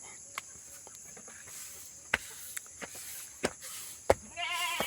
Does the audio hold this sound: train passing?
no